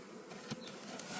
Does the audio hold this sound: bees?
yes